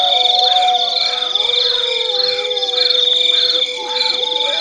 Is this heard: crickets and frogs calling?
yes